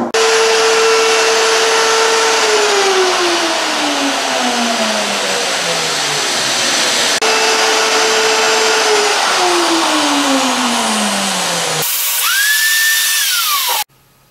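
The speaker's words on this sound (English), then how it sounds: "I got both corners routed out." A router whines loudly while cutting the corners of a walnut table, in two long passes with a falling pitch. A higher-pitched motor then runs briefly and stops abruptly.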